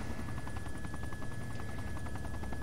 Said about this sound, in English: We are flying a helicopter in Electro.